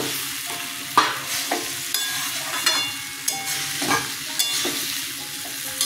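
Potatoes sizzle steadily in hot oil in a pan while a spatula stirs them in repeated scraping strokes, close and fairly loud, no voices, during cooking of a mango and mustard raw jackfruit dish.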